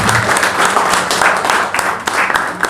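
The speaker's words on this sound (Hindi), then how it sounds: "आप तालियों से स्वागत करें." A political party gathering welcomes guests with applause, a loud, close burst of crowd clapping with distinct individual claps standing out, continuing steadily and tapering slightly near the end.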